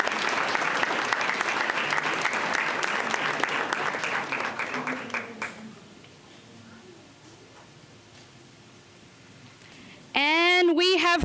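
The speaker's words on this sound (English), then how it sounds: "A round of applause for Malachi." Applause from an audience at a school board meeting fills the first five seconds with dense clapping, then tapers off to quiet room tone before a voice resumes speaking close by.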